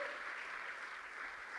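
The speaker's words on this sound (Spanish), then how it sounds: "Dele fuerte las palmas al Todopoderoso." A church congregation claps hands together in worship, a dense, steady round of applause with no pauses.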